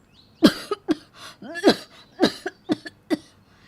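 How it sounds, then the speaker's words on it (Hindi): A person coughs repeatedly in short, harsh bursts, about eight or nine in quick succession, fairly close but not very loud. "ज़ोरदार खांसी हो जाती है"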